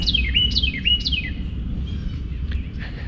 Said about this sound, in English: there's a mockingbird right over my head